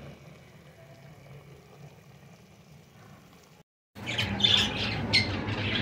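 Parrots squawking nearby in Balochistan, with several sharp, harsh calls bursting out loudly after a quieter stretch of low background noise and a brief silent gap, the squawks overlapping over an outdoor hum.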